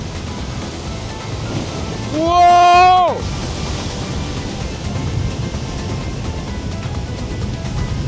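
Large ocean waves crash in a loud, continuous broadband roar that fills the whole clip, and a person briefly exclaims partway through.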